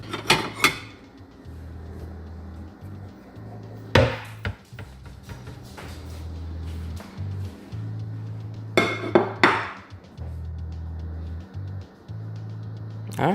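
Plates and pans clatter and clink in a home kitchen while a grilled cheese is being made, with sharp bursts of contact over a steady low hum and a voice speaking now and then.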